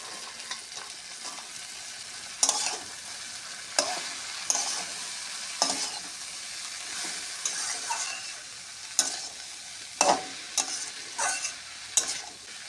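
Cabbage frying in a pan with potato sizzles softly underneath while a spatula stirs it in regular scraping strokes, roughly one sharp scrape every second or two, close and clear.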